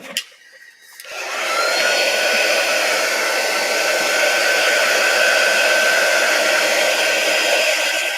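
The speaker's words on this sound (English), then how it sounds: "let's hook up my dryer so I can make sure that first couple of coats are dry" A handheld dryer blowing on freshly base-coated paint on a stencilled wooden sign: after a short click it starts up into a loud, steady, close whooshing roar with a faint high whine, running unbroken for about seven seconds with no talking.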